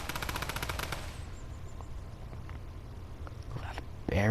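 Rapid automatic AK rifle fire in Fortnite rattles for about a second in a tight burst, followed by quiet game ambience with faint clicks and a sharp sound near the end.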